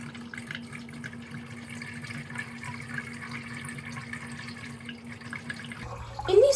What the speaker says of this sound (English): make sure that you're pouring pretty slowly and you see that the water is coming out of the bottom and is flowing into the top